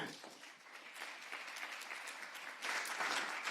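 An audience at a round-table conference session claps in steady, moderately distant applause that swells louder toward the end.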